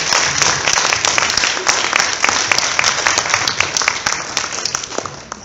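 Audience at a high school after-prom event applauds loudly and steadily, a dense crowd clapping that holds strong throughout before easing slightly near the end.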